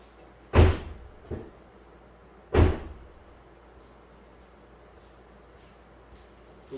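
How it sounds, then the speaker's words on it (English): Driver's door of a 2015 GM 2500HD truck thumps open and then shuts, two sharp impacts with a small rattle between, loud and close in a quiet cab with no talking. "Okay, I opened and closed the driver's door."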